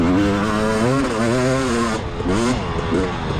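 Racing motorcycle engine at full throttle during a Mid East Racing event at Walnut Grove, loud and close, revving hard with rising and falling pitch sweeps as it shifts through gears, filling the whole stretch.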